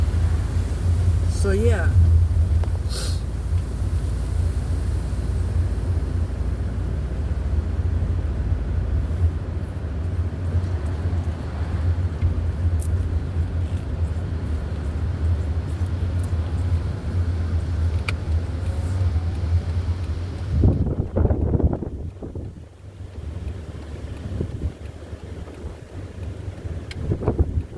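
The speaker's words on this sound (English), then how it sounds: "Oh, that wind feels good. But it's strong. It's a strong wind." Strong outdoor wind roars steadily across the microphone for nearly half a minute, a constant low buffeting rumble with passing traffic noise and a voice speaking briefly.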